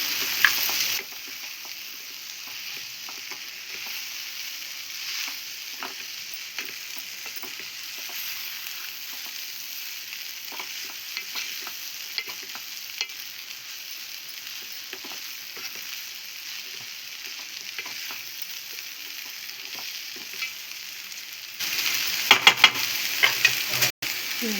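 Onions and green chillies frying in a pan for an upma-style poha dish, a steady close sizzle with occasional stirring scrapes, louder clatter near the end.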